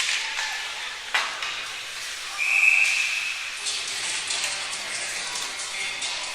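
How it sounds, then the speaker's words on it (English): A referee's whistle at an under-16 AAA ice hockey game sounds once as a sharp, piercing tone in the middle, heard over a steady arena hiss and crowd murmur. "another whistle as this one"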